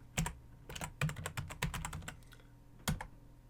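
Keys clatter on a computer keyboard as a password is typed in short bursts of quick clicks with brief pauses between them, close and soft, with no voices.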